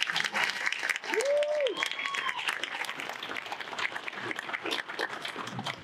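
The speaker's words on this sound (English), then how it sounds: "Let's give her a round of applause." A round of applause from a community awards-night audience, steady crowd clapping throughout with a whoop or cheer early on and some voices mixed in.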